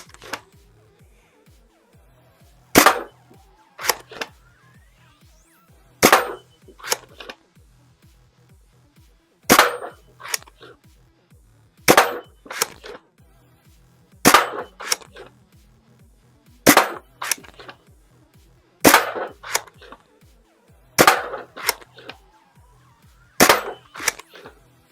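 Adventure Force Pro foam darts fired from a toy dart blaster at a target, a regular series of about a dozen sharp snapping shots roughly two seconds apart, each followed by a quick softer thud, with quiet mechanical clicks between.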